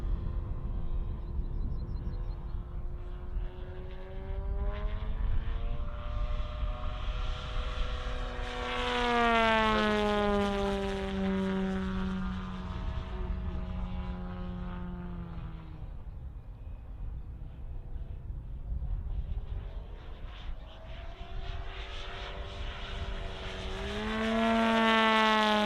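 A model propeller airplane flies at a model airshow, its buzzing engine rising and falling in pitch as it passes and rolls, steady and fairly loud throughout with a surge near the middle and end.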